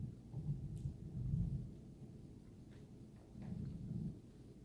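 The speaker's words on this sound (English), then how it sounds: "Lots of thunderstorms rolled through here earlier, so we got some residual thunder in the background." Residual thunder after passing thunderstorms, faint low distant rumbles rolling in two swells with quiet background in between.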